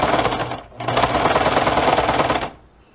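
Close-up sewing machine stitching a zigzag seam along a garment edge: two rapid mechanical runs of clattering stitches with a short pause between, stopping abruptly near the end.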